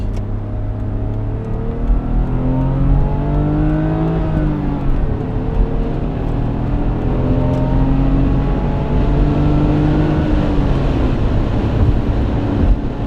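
A 1990 BMW 520i E34 sedan's M50B20 24-valve engine revs up steadily through the gears, its pitch climbing then dropping at each shift, loud and close with a constant road roar.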